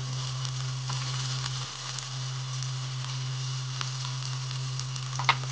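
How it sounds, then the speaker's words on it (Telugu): Chopped onions and spices sizzle steadily in hot oil for Hyderabad mutton marag, a constant close hiss with faint stirring clicks and a low steady hum underneath. "పచ్చి వాసన పోయేంత వరకు వేగనివ్వాలండి"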